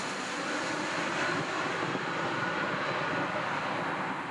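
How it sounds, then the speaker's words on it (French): Airliner landing in Germany, a broad steady roar of jet engines and rushing air, moderately loud and continuous with no voices. "leur avion se pose en Allemagne"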